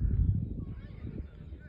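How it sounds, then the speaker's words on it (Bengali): Ducks in a park giving low, nasal honking calls, a short burst of a few close, rough honks. "কি সুন্দর হাঁসগুলো লাইন ধরে যাচ্ছে"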